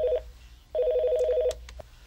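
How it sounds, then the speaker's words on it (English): A desk phone on a simulated incoming call gives two bursts of warbling electronic ringing, a short one and then a longer one, followed by a few faint clicks. "When the phone rings, answer the call by pressing the speaker key."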